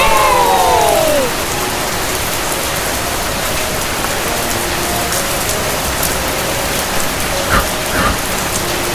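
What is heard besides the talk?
rain falling on a mobile home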